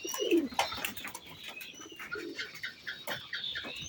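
Pigeons coo nearby in soft, repeated throaty bursts, mixed with faint chirps and some fluttering in a quiet setting.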